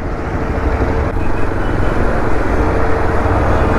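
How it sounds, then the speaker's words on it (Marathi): Heavy road traffic in the Mangaon market area near the bus depot on the Mumbai–Goa highway, heard from a motorbike, makes a loud, steady low rumble of engines and road noise. "एवढा ट्रॅफिक आहे ना इकडे यार"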